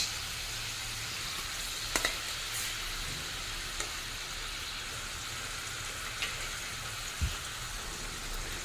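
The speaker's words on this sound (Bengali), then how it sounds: "খুব ভালোভাবে ফুটতে শুরু করে দিয়েছে। এখন দিয়ে দেবো ভেজে রাখা মাছ।" Fried pomfret pieces slipping into a boiling mustard and poppy seed curry, a steady broadband bubbling sizzle throughout with a few soft clinks and splashes of the fish going in.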